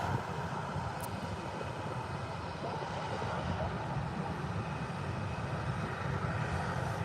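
A Ryanair Boeing 737 approaches Birmingham Airport, heard as a steady, distant broadband engine rumble that stays even throughout.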